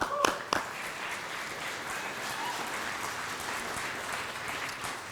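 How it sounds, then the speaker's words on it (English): Audience applause at a BC Achievement Award presentation ceremony for applied art and design, steady dense clapping from a large crowd that carries through the whole stretch, with a couple of sharper claps near the start. "Another round of applause to our dear friend, Will Acton."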